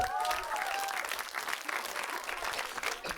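An audience at a Kazakh stand-up comedy show claps in a dense burst of applause, steady and close, with a brief voice over it at the start.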